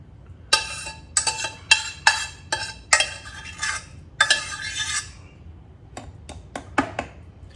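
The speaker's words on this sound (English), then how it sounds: "Let me get a spoon to get the rest of this out." A spoon scraping reduced cayenne hot sauce out of a container, a series of close, sharp metallic scrapes and clinks in uneven bursts, ending in lighter quick taps.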